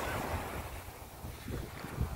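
Steady wind buffets the microphone over a rocky seashore while surf washes and rumbles low underneath, fairly faint and continuous, with no talking.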